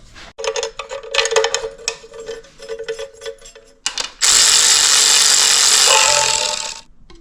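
Power tool running bolts into an Oldsmobile 400 engine being assembled, heard as a burst of short clattering bursts followed by one long, loud, steady whirring run close by.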